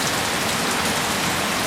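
Very heavy rain pours onto a street in a dense, steady hiss of countless drops, loud and close with no pauses and no voices.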